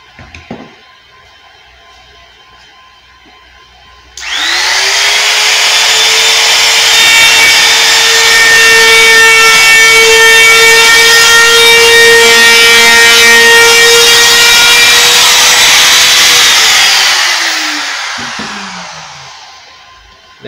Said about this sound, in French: c'est une affleureuse Makita que j'ai bricolée avec une cale de bois pour échapper la petite lèvre du champ qui est ici